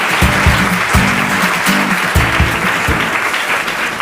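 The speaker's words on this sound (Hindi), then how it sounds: "जोरदार तालियां हो जाएं" Enthusiastic applause from a TV quiz show audience, loud and continuous, with rhythmic clapping bursts throughout.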